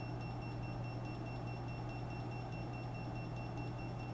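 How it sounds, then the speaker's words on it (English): Electronics from a Flywoo FPV drone with a VTX giving no video output emit a steady electronic tone during bench repair, with fixed high pitched lines and a constant hum throughout, no talk. "I can't handle this beeping. This thing needs to shut the hell up."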